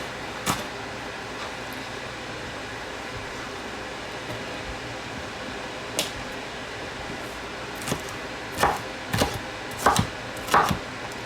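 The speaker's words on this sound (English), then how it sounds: "I'm going to go ahead and chop the others." Knife chops on a cutting board while ingredients for a BBQ pizza are prepared, beginning as a few sparse strokes over a steady background hum and quickening near the end into a close, irregular run of cuts.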